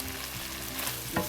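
Shrimp frying in a pan with lime juice, a steady close sizzle with a brief stirring scrape near the end.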